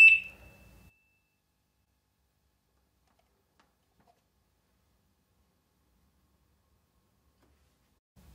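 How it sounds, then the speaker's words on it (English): A Vea indoor/outdoor strobe siren gives one short, sharp electronic beep at the start, followed by near silence. "All four lights should come on, and the siren should beep."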